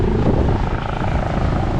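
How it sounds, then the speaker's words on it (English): A drone helicopter flies overhead above a flood-damaged coastal beach in Montego Bay, its rotor and engine giving a loud, steady, unbroken drone throughout with no talk. "this look like a drone helicopter"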